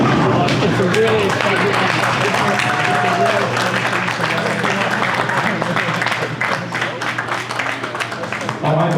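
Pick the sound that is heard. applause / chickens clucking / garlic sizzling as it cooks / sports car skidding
applause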